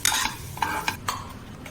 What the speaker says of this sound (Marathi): आता एकदा चांगली परतून घ्यायची आणि काढून ठेवायची